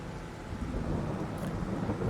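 Steady rain with a low rumble of thunder plays in the Farming Simulator 22 game, a soft, continuous wash of moderate loudness with no talking.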